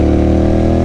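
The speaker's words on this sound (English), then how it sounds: "you cannot beat the exhaust note" A Royal Enfield Continental GT 650 cafe racer motorcycle gives a loud, close, steady exhaust drone, rich and throbbing, for just under a second with no talk over it.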